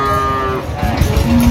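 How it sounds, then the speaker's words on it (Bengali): Cattle lowing at a rural livestock market in Dinajpur where dairy cows and calves are sold, with a long, loud moo drawn out over steady crowd bustle and a second call rising near the end. "গাভী বাছুর আমরা দেখছিলাম এখানে।"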